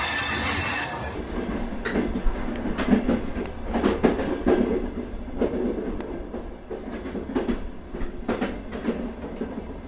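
A passenger train on the Howrah to Varanasi route, the Doon Express, rumbles along the rails with rhythmic clacking and occasional wheel squeal, loud and continuous, heard from inside.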